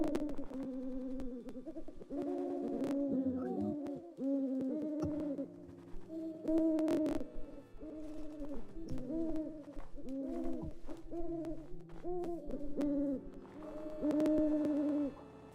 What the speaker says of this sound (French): Et nous sommes envahis de chouettes des neiges.